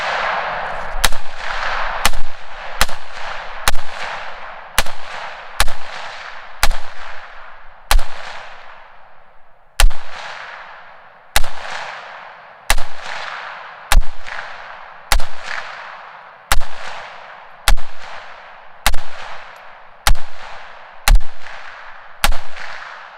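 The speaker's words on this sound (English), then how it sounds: "we're going to fire another 20 rounds of the Tula 150 grain, but now we have a very basic looking muzzle brake" A rifle with a cheap basic muzzle brake fires about twenty rounds of Tula 150 grain ammunition, each a loud, sharp crack with a short decaying ring, spaced in a steady, unhurried rhythm.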